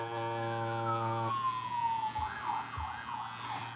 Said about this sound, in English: Sirens popping off.